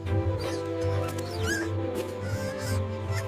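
A trapped baby mouse in a cartoon squeaks in thin, high chirps over a busy music bed, the squeaks brief and repeated across the moment.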